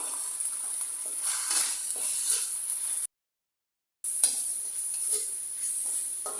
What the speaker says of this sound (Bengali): এখন মশলাগুলোকে এক দুই মিনিটের মতো ভেজে নিব